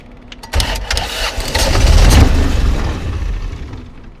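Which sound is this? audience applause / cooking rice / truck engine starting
truck engine starting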